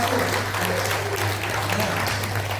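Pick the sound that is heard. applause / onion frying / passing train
applause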